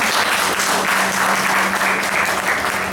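An audience at a college talk applauds a speaker, giving a dense, steady round of clapping that fills the room for a few seconds without pause.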